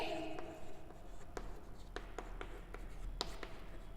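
Pen scratching on paper in a quiet room, with short strokes and taps spread across the passage, faint against a steady low hum.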